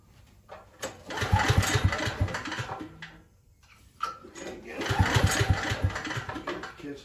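A Briggs & Stratton 6000 watt generator being converted from gasoline to propane is cranked twice, each start bringing a loud, rapid sputtering engine burst that fades, with a pause between attempts.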